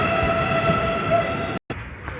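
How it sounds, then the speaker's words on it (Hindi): Train on the Rewari line pulling away, a steady rumbling drone with sustained tonal hum, one brief dropout near the end. "ये ट्रेन चल पड़ी है भाई रेवाड़ी"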